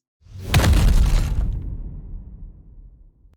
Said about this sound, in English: It's a boom sound, kind of an old one.